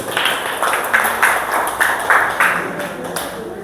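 Classroom clapping from pupils and teacher during a lesson, a brief burst of hand claps close by, mixed with chatter and talking over the top.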